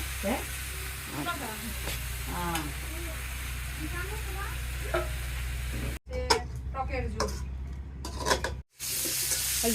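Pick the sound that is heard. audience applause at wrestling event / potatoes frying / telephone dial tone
potatoes frying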